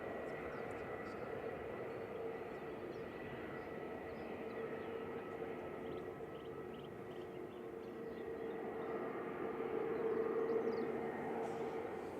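Eurowings Airbus A319 departing Manchester Airport for Dusseldorf, a steady distant jet roar with a droning whine that swells slightly toward the end, with faint voices underneath.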